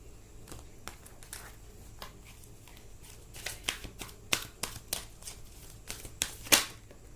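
A deck of tarot cards is shuffled and cards are drawn, giving soft papery flicks and riffles that grow busier and louder partway through, close by and with no talking.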